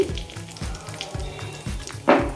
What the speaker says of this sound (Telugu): ఎండుమిర్చి, ఇప్పుడు సుర్రుమంటాయి కరివేపాకు వేసుకొని